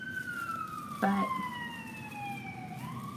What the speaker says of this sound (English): whoop, there goes an ambulance.